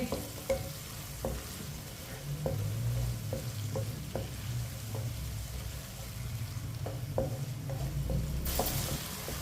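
Coarsely chopped onion sizzles steadily in a pan for an aloo shimla mirch dish, with a low continuous frying hiss and regular sharp taps and scrapes of a spoon against the pan, close and without talk.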